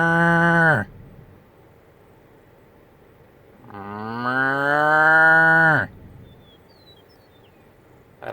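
Cattle mooing loudly nearby near a historic trail grave site, one short low call followed after a pause by a long, drawn-out bellow that rises and fades, with quiet field noise between.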